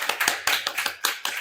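Brisk clapping at a community panel discussion honoring a couple, fairly close and uneven, with a few hands striking in quick irregular bursts.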